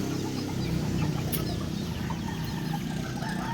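Roosters cluck and murmur amid a steady, dense crowd din at a cockfight arena in Asturias, with one brief sharp sound standing out near the middle.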